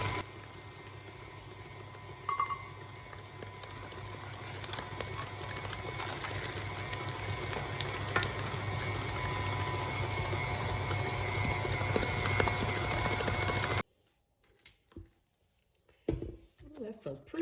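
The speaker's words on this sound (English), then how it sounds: "We're blending it until it's nice and smooth" A mixer whirs steadily as it blends butter and shortening in a mixing bowl, a continuous motor hum with faint rattling that cuts off abruptly near the end, followed by quiet room sounds and a brief voice.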